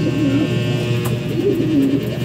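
Racing pigeons in a loft aviary coo softly in low, rolling calls, two or three phrases close by over a steady background hum.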